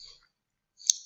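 One crisp computer mouse click rings out while clicking a proceed button, a single short sharp tick after near silence.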